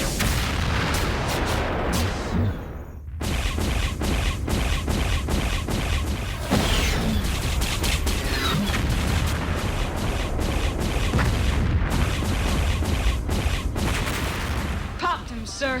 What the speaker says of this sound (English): Fire mission. Multiple targets, all batteries.